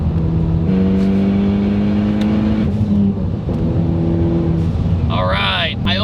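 Ford Focus ST fitted with a big turbo accelerating hard in third gear, a loud rising engine drone heard from inside the car, with people talking over it.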